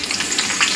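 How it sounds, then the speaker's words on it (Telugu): Mustard seeds, cumin and urad dal sizzle and splutter in hot oil for a vegetable curry tempering, a loud, close, continuous crackle of small pops with no voices. "1 చెంచా ఆవాలు, 1 చెంచా జీలకర్ర, 1 చెంచా మినప్పప్పు వేసేసి చిటపట్లాడిద్దాం"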